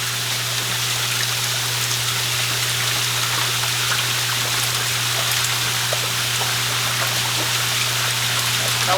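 Water running steadily into the tank of a DIY home-made brine maker, a constant hissing rush with a low steady hum beneath it, alone and unbroken throughout.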